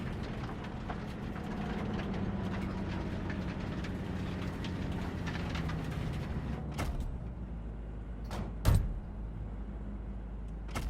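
A train rumbles along in Cyberpunk 2077, a steady low mechanical roar filling the scene, with a sharp metallic clank breaking through near the end.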